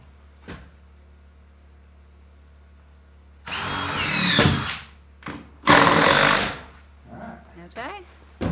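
A power drill drives a final screw into wood on a generator shed at an off-grid Alaskan homestead, with two bursts of whirring effort, a clunk at the start, and faint talk between.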